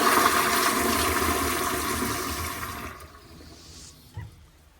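An old-type 1.6 gallon toilet flushing: a loud rushing gush of water that gradually fades over a few seconds into quiet refill trickles and a final gurgle.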